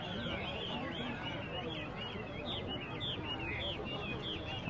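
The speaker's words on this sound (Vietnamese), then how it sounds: "Cứ đến đây buổi sáng đi chợ thì tha hồ nghe tiếng chim hót các bạn." Hwamei birds sing at a highland border bird market, a busy stream of bright warbling phrases and chirps repeating close by over a constant crowd murmur.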